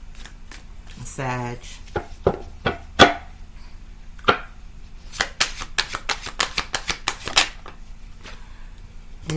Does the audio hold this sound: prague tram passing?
no